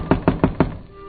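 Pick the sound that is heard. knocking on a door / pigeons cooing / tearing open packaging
knocking on a door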